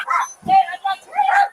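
A dog barks a few times close by at a traffic stop, short sharp yips and bow-wows in quick succession, loud and clear with no talk over them.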